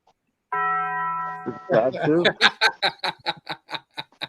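A bright bell-like chime, the Taco Bell bell, rings for about a second, then a person breaks into a rhythmic chuckling laugh that pulses in quick bursts.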